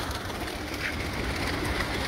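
Soft, continuous pigeon cooing drifts through a loft amid a broadband background hum, steady and fairly distant, with no voices.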